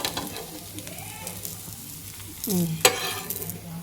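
Onions sizzle in hot oil while being stirred in a pan during home cooking, with soft crackling and scraping spoon strokes close by, and a sharper clink near the end.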